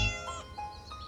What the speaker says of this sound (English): It sounded like a kitten.